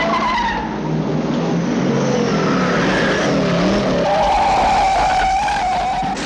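Cars in a movie chase scene roar past with screeching, skidding tires and revving engines, loud and close throughout.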